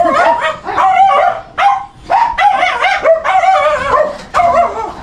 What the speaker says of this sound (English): She also keeps dogs.